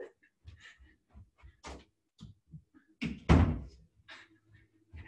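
An indoor door being shut after a cat is let out: scattered soft knocks and shuffles, then one loud, close thud as the door closes, followed by a few quieter bumps.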